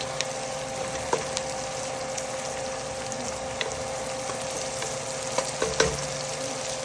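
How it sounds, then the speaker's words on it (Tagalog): Carrots and potatoes fry in a pan with a continuous close sizzle, broken by scattered small pops and crackles. "ipapry natin ang carrots at patatas"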